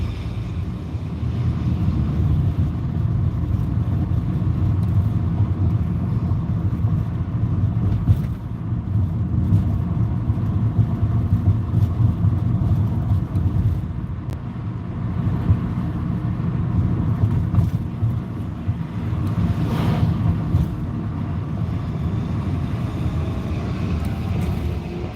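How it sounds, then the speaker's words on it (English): A truck engine runs rough outside for a long stretch, a heavy low rumble with uneven surges and wind-like noise, steady and fairly loud with no talk. "That truck sounds rough."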